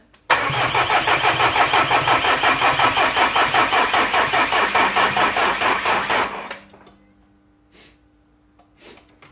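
A 16-valve project car's engine cranks on the starter in a fast, steady rhythmic chug for about six seconds without catching, then cuts off, leaving faint clicks and shuffling.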